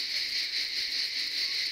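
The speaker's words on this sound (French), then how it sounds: "Qu'est-ce que c'est qu'on entend? Les cigales." Cicadas drone in a continuous, shrill, buzzing chorus at night, steady and moderately loud with a slight pulsing texture and no other sounds.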